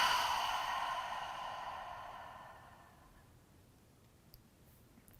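A slow, easy exhale during a gentle yoga session, a long breathy sigh that starts clear and close and gradually fades into quiet, ending with a couple of faint clicks.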